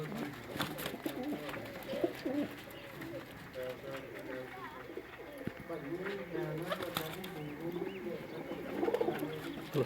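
Sialkoti pigeon, a Dabba type, cooing in repeated soft rolling phrases close by, with people talking over it throughout.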